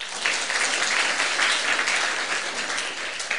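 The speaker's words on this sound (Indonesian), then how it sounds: "Tepuk tangan dong" A church congregation claps steadily during a sermon, a loud, dense wash of applause that holds for a few seconds without any voice over it.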